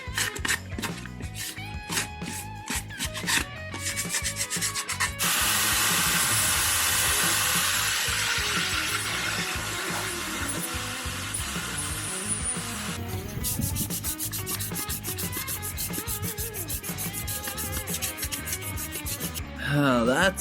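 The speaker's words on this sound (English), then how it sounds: "So the 180 grit sandpaper" Motorcycle exhaust rubbed with 180 grit sandpaper, close rapid back-and-forth scratching strokes, with a stretch of long continuous hissing sanding in the middle; no talking.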